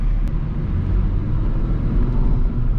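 A Volvo S60 R pulls hard from around 2000 rpm, its engine giving a loud, steady low rumble that stays close and even throughout, with no voices over it.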